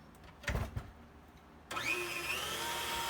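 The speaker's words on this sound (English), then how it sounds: "put it back on the mixer and then start adding the butter" Stand mixer starting up on Italian buttercream, a steady motor whir kicking in after a few soft clunks and then running evenly, fairly quiet.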